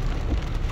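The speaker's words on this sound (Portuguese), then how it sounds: "Mostrar a chuvinha do último dia do ano." Steady rain pours down on the last day of the year in Itapema, Santa Catarina, a continuous hiss of drops on surfaces with a low rumble beneath, close and even throughout, with no voices.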